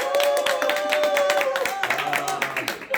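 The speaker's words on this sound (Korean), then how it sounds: "한 400명 온 것 같은 느낌으로 박수를 쳐주시네요" An audience at a business lecture gives a short burst of clapping, fairly loud, with a sustained tone and some background voices mixed in.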